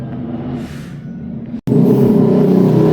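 A motorcycle engine revs hard and close during a combustion check, a rough rumbling roar that briefly cuts out, then returns louder and sustained.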